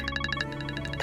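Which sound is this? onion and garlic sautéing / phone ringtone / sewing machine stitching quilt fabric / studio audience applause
phone ringtone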